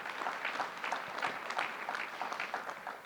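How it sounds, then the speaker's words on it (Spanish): Moderate, somewhat distant clapping from a conference audience welcoming a panelist at a mining and clean energy congress, an even patter of hands lasting a few seconds. "Un aplauso para Diane."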